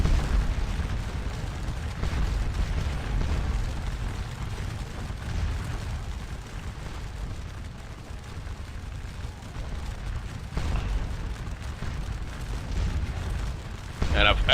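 Artillery fire in the Napoleonic battle game Scourge of War Waterloo, a continuous rumbling barrage of distant booms that rolls on steadily, with a sharper burst near the end.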